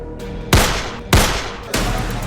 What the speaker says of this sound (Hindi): शुभेंदु के पीए पर ये ताबड़तोड़ गोलियां बरसा रहा था।